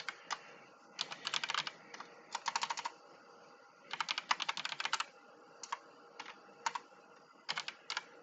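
Bursts of rapid typing on a computer keyboard while setting up a Raspberry Pi 4 photobooth print and slideshow server, clicky keystrokes coming in clusters with short pauses, close and fairly quiet, no talking.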